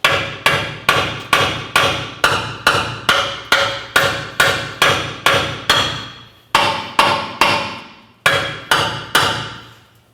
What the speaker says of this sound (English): I'm going to continue with my hammer and cause some vibration.